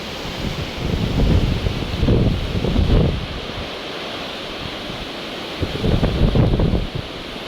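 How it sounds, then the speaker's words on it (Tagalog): Strong wind roaring through large trees, in loud rushing surges that swell and ease in gusts, close and continuous, with no talking. "Yung kabilang side lang yung dinudurog ng hangin."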